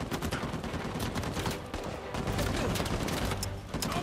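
Rapid gunfire during a firefight in the marketplace in Uncharted 4, with dense, continuous bursts of shots and booms that stay loud and busy for the whole stretch.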